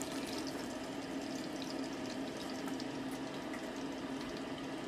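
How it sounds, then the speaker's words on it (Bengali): Chicken pakora fries in hot oil with a soft, steady bubbling sizzle, fairly quiet and continuous, with a small clatter at the very end. "একইভাবে বাকিগুলোকেও আমি ফ্রাই করে নিচ্ছি"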